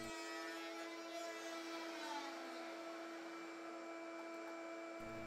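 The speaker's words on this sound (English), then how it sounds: "and machine the second mortise." A router machining a mortise in a wooden dining table post, a steady high whining motor drone held at constant pitch for several seconds, close and alone.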